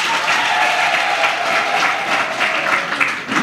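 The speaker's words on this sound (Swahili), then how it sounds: "Mjipigie makofi." A crowd of young people at a government loan handover event applauds, a steady dense clapping that holds at full level for several seconds with no talk.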